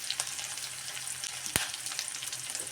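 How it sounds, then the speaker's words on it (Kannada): Curry leaves and onion fry in hot oil with a steady, close hiss and crackle that runs throughout, broken by one sharp pop near the middle. "ಹಾಕ್ಬಿಟ್ಟು ಸ್ವಲ್ಪ ಎಣ್ಣೆಗೆ ಇದನ್ನು ಫ್ರೈ ಮಾಡೋಣ"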